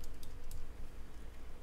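Fast typing on a computer keyboard during server setup, a few quick clicky keystrokes near the start over a low room hum, then quieter.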